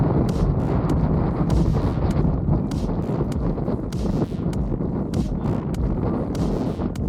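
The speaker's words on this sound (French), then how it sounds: "il y a un vent de fou." Strong wind on a mountain during an extreme race, gusting constantly and buffeting the microphone with a loud rushing roar throughout.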